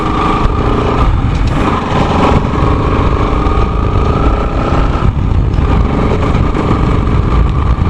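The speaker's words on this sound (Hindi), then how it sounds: "जैसे कि मैंने रियर ब्रेक लगाया और गाड़ी स्मूथली रुक गई।" A second-hand motorcycle engine runs loud and steady, close by, while the bike rides and then slows under the rear brake to a smooth stop, with no talk.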